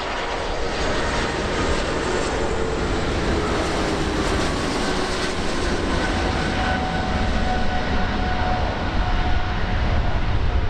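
A heavy Airbus airliner on approach to land at runway 24 right, a continuous loud engine roar that stays steady throughout with no talk.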